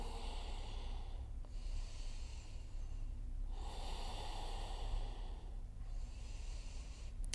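Deep breathing during yoga practice, slow airy inhales and exhales in a steady rhythm, close and soft over a low background hum, with no speech.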